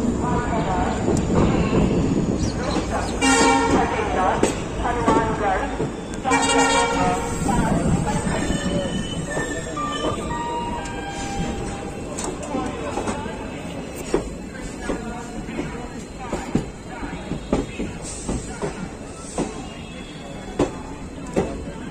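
Uttaranchal Sampark Kranti Express slowly pulling out of Moradabad Junction, rumbling wagons and clacking wheels with a horn blast early on, heard loud and close from aboard the train amid platform noise and some voices.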